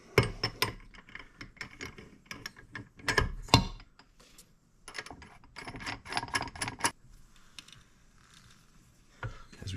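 Ratcheting clicks come from tightening the nut on a crankshaft installer tool while rebuilding a 1998 Suzuki RM125 engine, close and fairly loud, in quick bursts with short pauses.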